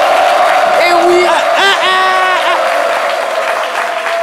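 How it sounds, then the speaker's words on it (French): A television studio audience claps loudly and steadily to welcome a guest, with a few whoops and a presenter's voice rising over the sustained applause. "On applaudit très fort Dr Philo"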